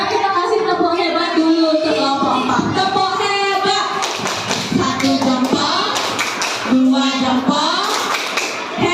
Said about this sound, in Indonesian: Sekarang kita kasih tepuk hebat dulu untuk kelompok